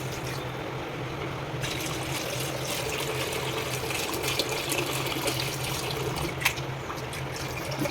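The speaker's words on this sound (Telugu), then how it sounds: "చల్లనీళ్ళు పోసుకోవాలి." Cold water pours steadily over strained chenna in a cloth for rasmalai, a continuous close splashing flow with a small spike of sound near the end.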